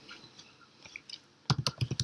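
Commands being typed on a computer keyboard at a terminal: sparse light clicks, then a quick run of six or seven crisp, close keystrokes.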